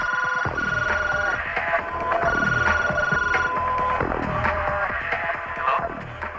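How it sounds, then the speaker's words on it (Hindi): A telephone rings in repeated electronic trill bursts, evenly spaced and fairly loud, with background film music beneath. "राज, लैंडलाइन से फोन करो।"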